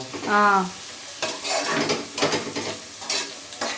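Onions and green chilies sizzle in hot oil for a country chicken curry, with a loud tonal squeal at the start followed by a steady crackle and repeated stirring scrapes.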